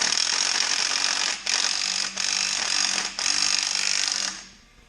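A ratchet tool works a bolt loose on an Allis Chalmers WC tractor, giving four loud, harsh buzzing bursts with short gaps before trailing off into quiet.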